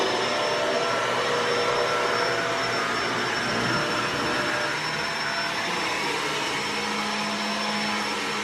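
A vacuum cleaner runs steadily in a home, a loud, constant close-up roar with a high whine that holds for the whole stretch, with no talking.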